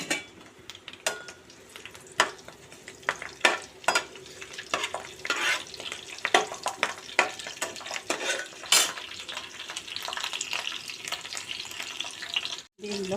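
Mustard seeds, cumin, curry leaves and green chillies frying in hot oil, a steady sizzle broken by repeated sharp pops and spoon scrapes against the pan, close and fairly loud.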